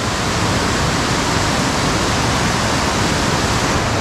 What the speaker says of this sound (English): I just happened to catch a cool waterfall.